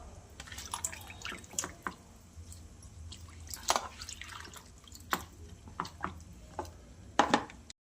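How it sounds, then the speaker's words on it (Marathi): Colocasia leaves dipped in water in a kitchen, giving a scattered series of close drips, small splashes and wet squishes at an irregular rhythm. "त्याचं हे पूर्ण असे पाण्यात डीप करून ठेवून देणार 2-3 मिनटं।"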